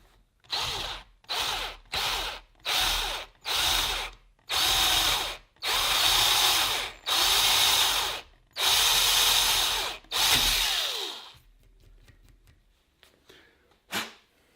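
A power drill with a 5mm bit bores into the metal mid-level spreader of a Manfrotto 546B tripod in about nine loud whirring bursts separated by short pauses, then quiet handling and a final click.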